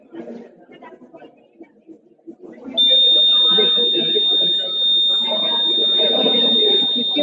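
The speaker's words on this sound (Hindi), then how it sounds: "जब वर्षा की बूंदे इस इनकम्प्लीट सर्किट पॉइंट पे गिरती है तो सर्किट कम्प्लीट हो जाता है जिसके द्वारा बजर ऑन हो जाता है" A buzzer on a school science-fair rain detector project, triggered when water drops complete its open circuit, sounds a steady, loud continuous tone that starts partway through and holds to the end, over crowd chatter and talk at an exhibition.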